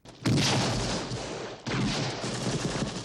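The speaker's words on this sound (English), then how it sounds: "The actual Indiana Jones gunshot was a .30-30 Winchester rifle that was recorded." Two loud, sharp .30-30 Winchester rifle shots about a second and a half apart, each followed by a long echoing rumble that rolls on between them.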